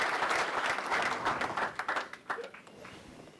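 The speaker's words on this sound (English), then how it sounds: "And let's give him a round of applause" Audience applause after a speech, a dense wash of clapping that swells loudly at first then thins into scattered claps and fades over a few seconds.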